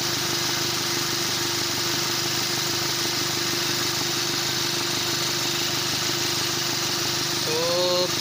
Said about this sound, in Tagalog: Yan, gumagana na yung compressor.